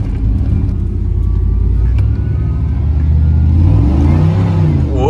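An old truck with a faulty temperature sensor, smoking as it drives: a continuous close, loud engine drone with slight revving changes and a rising pitch near the end.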